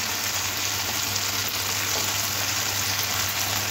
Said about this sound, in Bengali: 2 থেকে 3 মিনিট টমেটো আর পেঁয়াজটা ভেজে নিতে হবে